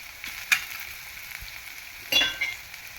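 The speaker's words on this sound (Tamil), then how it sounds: "ஆனியன் போட்டுக்கலாம். கொஞ்சம் வதக்க தூக்கி வச்சுக்கலாம்." Onions sauté in a pan for kuzhi paniyaram, a faint steady sizzle with a couple of brief clinks of a utensil, quiet and close with no voices.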